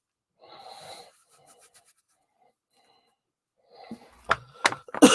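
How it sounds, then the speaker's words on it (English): A man on a casual evening live stream coughs in three harsh, sharp bursts close to the mic near the end, after a short murmur and a quiet pause. "sorry about the coughing."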